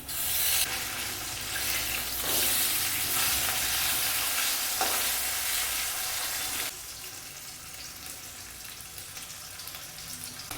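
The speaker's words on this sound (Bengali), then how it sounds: "এবার আমি মাছটা ভেজে নিচ্ছি" Hot oil sizzles and crackles steadily as fish fries in a spoonful of oil in a kadai, a loud broadband hiss that drops slightly in intensity near the end.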